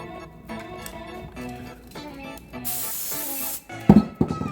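An aerosol can of strong craft glue sprays in a steady hiss lasting about a second, set among quiet clicks and handling taps while making a flower box, followed by a couple of louder knocks.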